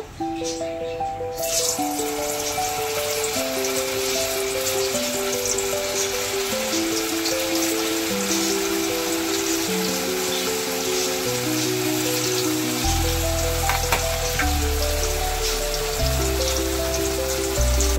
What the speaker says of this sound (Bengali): এবার কড়াইয়ে আমার তেলটা গরম হয়ে গেছে। এবার আমি এগুলোকে একটা একটা করে ছেড়ে দেব আর একটু সিমে দিয়ে নেব।